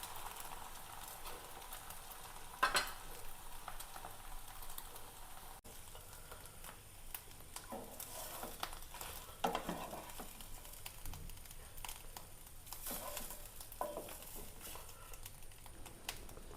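Duck eggs frying in a pan give a steady, moderately loud sizzle and crackle throughout, with a few sharper pops and scraping clicks, and no talking.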